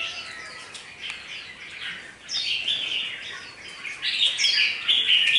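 A red-whiskered bulbul, an old wild-caught bird, sings bright, warbling phrases that rise and repeat steadily and grow louder toward the end, heard close up over a faint background hiss.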